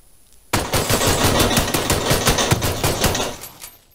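Gunfire in PUBG breaks out abruptly as a rapid, loud burst of automatic shots, closely spaced and continuous for about three seconds before trailing off, with no talk over it.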